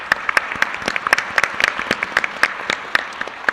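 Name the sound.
audience applause at a panel event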